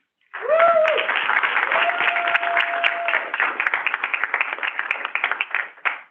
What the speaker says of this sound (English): please welcome them with a hand of applause